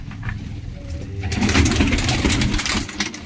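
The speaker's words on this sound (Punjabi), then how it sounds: "ਅਤੇ ਆ ਜਨਾਬ ਸਿਆਲਕੋਟੀ ਕਬੂਤਰ" Sialkoti pigeons cooing close by, soft repeated throaty coos that swell into a denser, louder chorus midway, with faint engine noise in the background.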